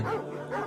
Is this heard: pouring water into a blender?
no